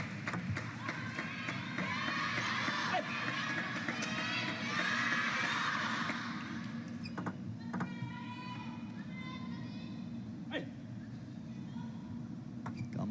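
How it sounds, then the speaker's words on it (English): Table tennis fans in the crowd at a men's singles match call out and cheer, a loud burst of chanting voices that fades, followed by scattered sharp claps and thumps in the hall. "Gambare Togami. Some of the fans in the crowd."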